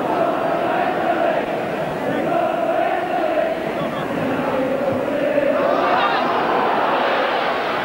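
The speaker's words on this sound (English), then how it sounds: "Crowd breaking into, we're going to win the league" Football crowd at a 1971/72 Leeds United versus Southampton league match chanting together, a loud, sustained sung roar filling the whole stretch with a steady rhythmic swell.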